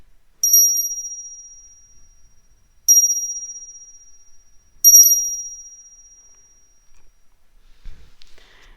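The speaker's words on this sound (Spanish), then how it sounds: "deja que el sonido de esta campana limpie tu energía" A small bell rings three times at even intervals, each a clear bright ding that slowly fades out in an otherwise quiet room.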